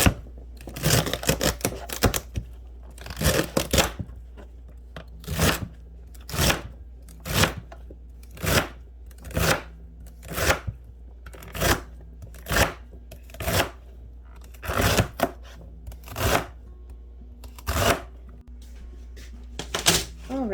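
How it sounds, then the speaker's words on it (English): A knife chopping celery on a board in a homestead kitchen, sharp evenly spaced cuts about once a second, close and crisp over a quiet background, with a few quick clustered chops at the start. "So I'm going to keep on chopping."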